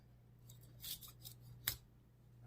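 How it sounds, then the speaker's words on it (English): A knife trims fat off a ham before baking, making a few quiet slicing and scraping strokes over a low hum, with one sharper cut near the end. "I'm just going to start off by trimming all the fat off of this ham"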